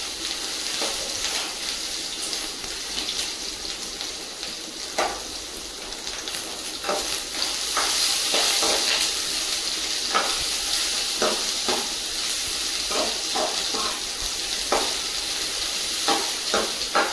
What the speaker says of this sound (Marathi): दोडका थोडा तेलात भाजून घेऊया